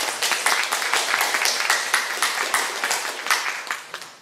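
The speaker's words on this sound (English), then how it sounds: "I think you should clap for them one more time." Audience applause at a Project Censored book launch, a small room of people clapping densely and close for a few seconds before tapering off.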